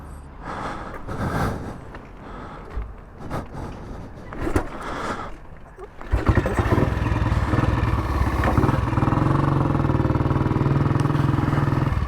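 A 1959 BSA motorcycle engine while riding in the Fens: after a few seconds of clattering and handling noises, the engine sound comes in loud and steady, a continuous low rumble with wind noise that carries on to the end.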